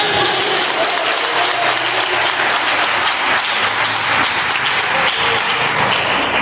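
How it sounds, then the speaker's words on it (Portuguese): Sustained applause from a church congregation during an evening sermon, a dense, steady wash of many hands clapping close by with no pauses for the full stretch. "Você pode dar um aplauso a Ele que vive em você."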